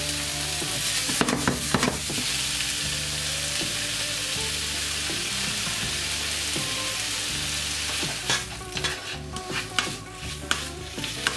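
Thinly sliced lamb frying hard in a hot wok, a loud continuous sizzle and crackle with bursts of stirring and scraping toward the end, no voices.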